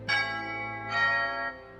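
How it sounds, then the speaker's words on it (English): A doorbell rings twice, two bright chime tones a little under a second apart, each ringing out and fading, with no talk over them. "Ring the doorbell"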